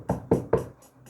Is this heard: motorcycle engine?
no